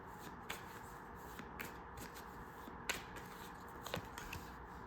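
Tarot cards being shuffled in the hands, a steady riffling rustle with several sharper snaps and flicks. It is close and fairly quiet, with no talking.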